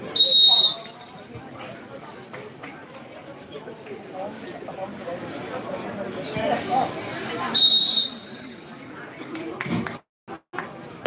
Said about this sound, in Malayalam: സർഗീവ് കാട്ടക്കമ്പാടിയുടെ വിസിൽനാഥത്തിന് താളം പിടിച്ചുകൊണ്ട് പതിനാല് പടയാളികൾ കളിക്കളത്തിൽ